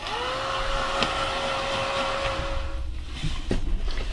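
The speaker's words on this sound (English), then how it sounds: "I don't want you to have to hear my heat gun while I'm finishing drying up this paint here" A heat gun dries paint on an old record, blowing a steady, close, whooshing roar with a thin whine that drops away partway through while the airflow carries on.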